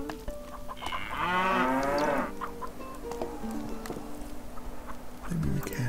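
Cattle on a farm in the castle-building game Stronghold HD give one long, loud moo, followed by softer farm-animal sounds and chicken-like clucking in the background.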